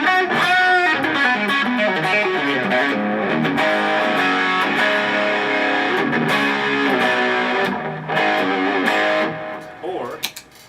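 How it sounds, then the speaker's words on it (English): An electric guitar plays chords with thick, heavy distortion, loud and sustained, ringing out before fading at the end. "if you add a ton of distortion"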